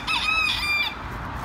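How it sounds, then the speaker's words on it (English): A chicken clucking and squawking up close in a theme park, a brief loud burst of shrill calls over steady crowd and background noise. "This chicken is letting me pet him."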